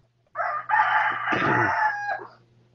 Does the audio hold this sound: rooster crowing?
yes